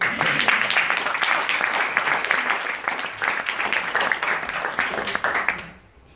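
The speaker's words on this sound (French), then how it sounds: "essayez de lui rendre honneur et applaudissez-le" An audience at an eloquence contest bursts into sustained applause, many hands clapping continuously at close range before fading out quickly at the end.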